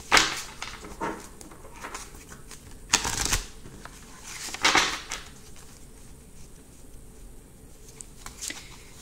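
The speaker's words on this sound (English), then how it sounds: "So here are the cards, and I'm going to be shuffling them and picking three cards for today." Tarot cards are shuffled in soft bursts of riffling and flicking, a few louder rustles among quieter sliding, close up with no talking.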